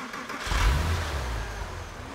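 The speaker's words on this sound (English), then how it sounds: "Now we're going to go ahead and start up the car." A Porsche M96/M97 flat-six engine cranks and catches, swelling into a loud, close rev before settling into a steady, rumbling idle for the remaining seconds, with no voices.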